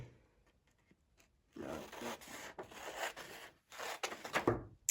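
Scissors cutting long strips of paper for a children's Valentine's Day craft, close-up crisp snipping and rustling in several bursts with short pauses between them, no talking.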